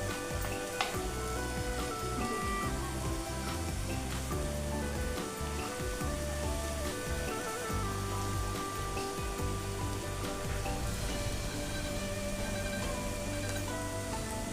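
Jackfruit pieces cook in a spiced masala in a pan, giving a soft, steady sizzle and crackle that runs throughout beneath louder background music.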